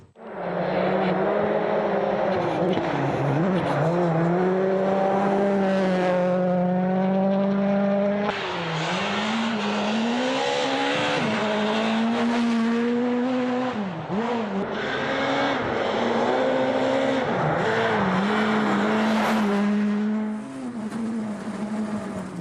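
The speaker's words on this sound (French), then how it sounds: "Allez, embarqué avec François Delcourt, le Français au volant de sa Peugeot 207." A Peugeot 207 rally car tears along a special stage in rally competition, the engine revving hard and near with repeated rising pitches and sharp drops at gear shifts, loud and continuous.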